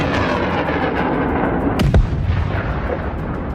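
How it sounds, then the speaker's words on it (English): A GMLRS rocket fired from a HIMARS launcher strikes a target in a combat zone, giving one sharp, distant-sounding blast partway through, with steady rumbling noise before and after. "A GMLRS rocket, launched from a HIMARS system, hits the target directly, wiping it out completely."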